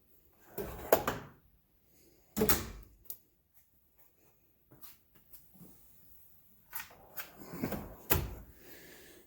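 A drawer on a U.S. General 72-inch toolbox slides and shuts in several close, sharp metallic clunks and rattles, separated by short quiet gaps with faint handling noises.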